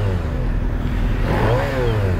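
A 100,000-mile Suzuki GSX-R1000 being given a throttle blip. A loud, close engine note swells and falls away with no talk over it.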